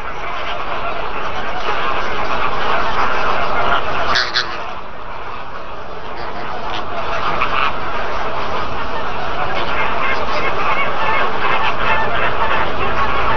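A Cuban flamingo colony calls from its nests, a dense loud chorus of honking, goose-like cries from many birds near and far, with narration running over it.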